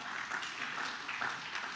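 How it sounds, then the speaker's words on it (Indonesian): Crowd applause fills a church during a Malay-language worship service, a dense, steady wash of many hands clapping that holds evenly throughout. "berikan tepuk tangan bagi Tuhan kita"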